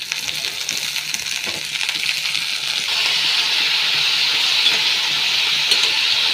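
Vegetables, potatoes and spinach among them, tossed into a pan of onions browned in oil, sizzling steadily with a hiss that grows louder partway through, punctuated by faint stirring clicks.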